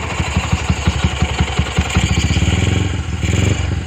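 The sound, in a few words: Yamaha Jupiter MX motorcycle engine running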